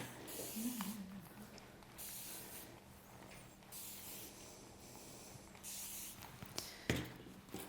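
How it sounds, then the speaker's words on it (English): Several short hissing sprays of water from a spray bottle onto hair, spaced irregularly over a quiet background with faint handling noises. "I'm just going to spray it with a little bit of water."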